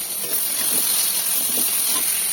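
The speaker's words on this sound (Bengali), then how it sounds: "পটলগুলো সামান্য লবণ ও হলুদ ছড়িয়ে ভেজে নেব" Pieces of pointed gourd sprinkled with salt and turmeric fry in hot oil, giving a loud, continuous, close sizzle that hisses steadily without a break and with no one talking.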